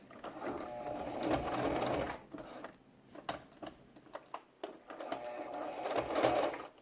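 A home sewing machine stitches the pleats of a fabric face mask, running in close, steady bursts that stop and start, with short mechanical clicks in the pauses between runs.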